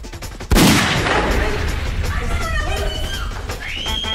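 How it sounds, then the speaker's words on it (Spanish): A single loud, sharp gunshot bangs out and rings off, leaving a noisy rumbling tail with faint high tones afterward. "esos son balazos"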